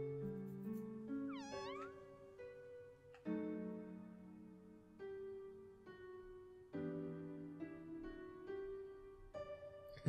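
A cat meows in the video game OMORI over a layer of game music, with several short meow calls spread across the stretch while the tonal soundtrack continues underneath.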